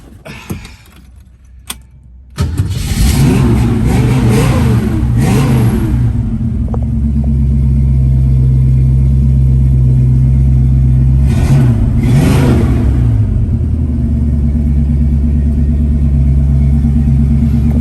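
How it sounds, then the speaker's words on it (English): A 1966 Ford Mustang V8 engine cranks and fires up after a quiet pause, revs loudly twice, then settles into a deep, rumbling idle, close and powerful. "let's fire up Mustang Sally"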